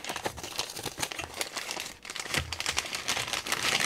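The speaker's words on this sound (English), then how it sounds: "let's open the box and see what's inside" A box of Seymour Duncan guitar pickups for a Fender MIJ Jazzmaster is opened, and the packaging gives off steady, close crinkling and rustling with brief tearing-like bursts, heard alone without talk.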